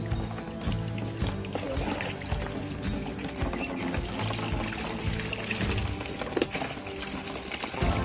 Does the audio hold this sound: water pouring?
yes